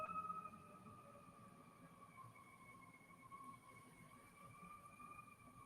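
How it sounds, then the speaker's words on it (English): A steady wailing fire engine siren drones on in the distance, its long sustained tone holding over a low rumble of background noise. "I actually hear the siren"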